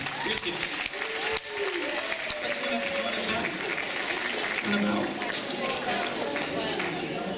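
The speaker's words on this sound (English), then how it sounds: "maybe a round of applause for the little mini Viking." A live show audience claps steadily in sustained applause, with voices and cheers mixed in underneath.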